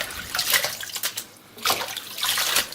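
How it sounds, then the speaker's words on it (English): Boiled callaloo and its cooking water poured into a colander, splashing and rushing water in uneven bursts with a brief lull midway, fairly close. "I'm gonna remove the callaloo from the water, and then I'm gonna put it in a colander to drain"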